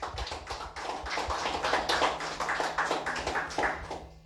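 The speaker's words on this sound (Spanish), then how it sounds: "Dele fuerte aplauso al Señor, hermano." A church congregation applauds with dense, sustained clapping that fills the room, swelling and dipping in waves without a break.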